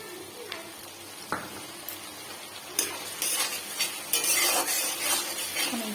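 Chopped tomatoes and green chillies go into hot oil in a pan, followed by sizzling and frying with several sharp clinks of a utensil against the pan, rising toward the end; no talking.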